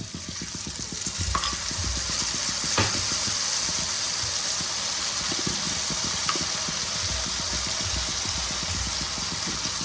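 Ginger garlic paste sizzles steadily in a hot pan for a Bengali fish-head cabbage dish, with continuous frying hiss and repeated close scraping of a spoon stirring, no talk.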